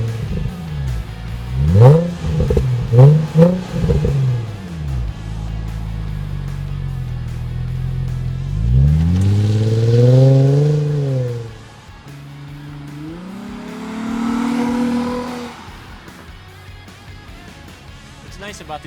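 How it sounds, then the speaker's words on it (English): A 2004 Nissan 350Z Touring with a 3.5-liter V6 starts outdoors in the shade, then revs in two rising and falling swells that come through clearly, with a person talking over the idle between them. "Good old fashioned startup."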